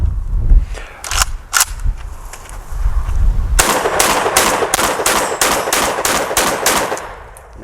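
A JTS AK12 airsoft rifle fires in a rapid string of sharp, clacking shots, first a few scattered single shots and then a fast, steady burst. People are moving and talking around it outdoors during an airsoft game.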